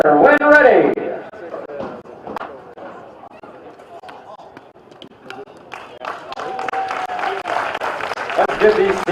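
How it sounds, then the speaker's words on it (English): A crowd claps and cheers for graduating seniors at a senior-night varsity baseball game between Rockwall and Little Elm. A voice and chatter come first, then the applause swells, steady and fairly loud. "Let's give these seniors one more round of applause"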